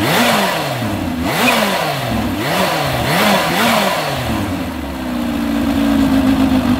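Kawasaki H2 SX touring motorcycle engine revving loudly close by, with several sharp rising-and-falling throttle blips in quick succession before it settles into a steady, droning idle.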